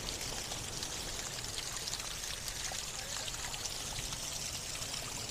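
Water pours out outdoors in Iceland, a constant close splashing rush that holds steady throughout without any voices.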